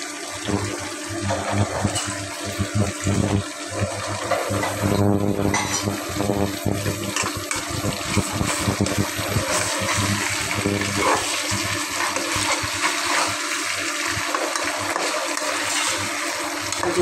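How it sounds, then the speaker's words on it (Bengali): Garlic chicken frying in a pan over a raised flame, cooked the traditional Bengali home way, gives a steady, dense sizzle like rushing water. It runs unbroken and fairly loud throughout with no voices. "দেখতেই পাচ্ছেন এটা ভাজা হয়ে যাচ্ছে।"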